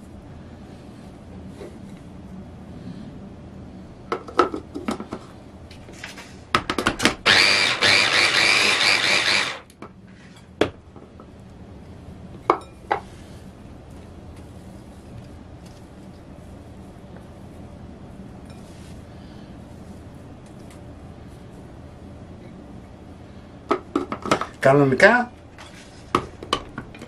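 An electric mixer blends 350 grams of soaked, drained bread for Greek skordalia in one loud whirring burst of a few seconds, surrounded by clinking utensils and bowls while someone speaks Greek.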